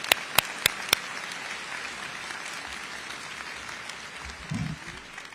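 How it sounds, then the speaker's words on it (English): Applause from a crowd at a high school commencement, sustained and fairly distant, with a few sharp claps standing out near the start and a brief low murmur near the end. "please help me give them a round of applause"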